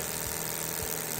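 An internal combustion engine runs steadily with a little fuel, giving a continuous low mechanical hum and vibration with faint periodic pulses, close and without any voices.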